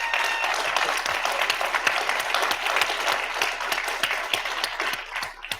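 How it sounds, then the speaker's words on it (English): Applause from a conference audience at the closing of a cybersecurity event, dense steady clapping close by throughout, tapering slightly at the end. "give a round of applause for Adam himself"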